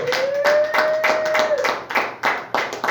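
A church congregation claps in a loud, steady rhythm, the claps landing in even beats close by, with a sustained tone sounding over the first half.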